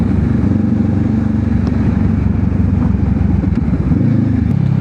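A Honda CB500X motorcycle riding on a highway, its engine droning loud and steady with continuous wind and road roar, no talking.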